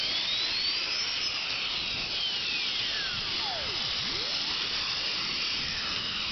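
A Moore No. 3 jig grinder's 40,000 RPM grinding head spins up, a steady high-pitched whine with smoothly sweeping tones over a constant hiss, heard alone and close.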